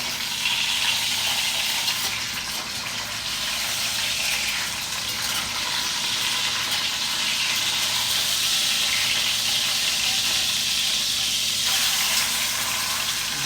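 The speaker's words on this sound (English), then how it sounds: "once this is seared on that side, I'll flip it over and we'll sear the other side" A pork loin sears in a hot pan, giving a steady, dense sizzle and crackle that holds loud and even throughout with no talking.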